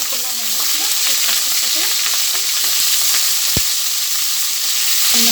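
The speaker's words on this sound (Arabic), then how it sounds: "بس هنزل على باللحمه عشان عايزه احمرها، يعني ايه هحمرها كده" Pieces of meat sizzle in a small spoonful of hot ghee in a pot, a steady loud frying hiss with occasional crackles and clicks from stirring, close up and without talk.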